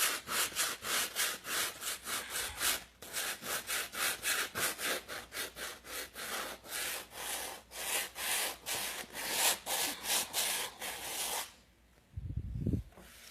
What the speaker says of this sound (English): I'm not putting hardly any pressure on my sanding block